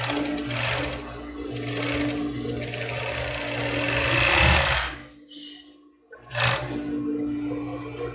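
Sewing machine stitching a padded bra, its motor running in a steady rapid whir for several seconds, pausing briefly, then starting again close and fairly quiet.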